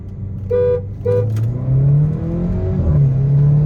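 A Volkswagen Vento with a stage 1 tune and a stock Polo GT TSI race each other in a roll race from 20 km/h. A loud, close engine pulls continuously, its pitch rising steadily, with two brief horn-like tones near the start.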